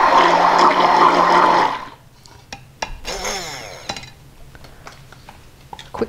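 An immersion blender whirs loudly for about two seconds while blending salad dressing, then cuts off, followed by clinks and light handling noises.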